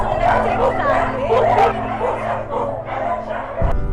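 Many dogs at a crowded home in Capas, Tarlac bark, yip and whimper in an excited overlapping chorus close by, with people talking in the background.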